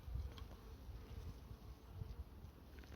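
Honey bees buzz in an open hive during an inspection, a soft, steady low drone, faint and close, with no talking.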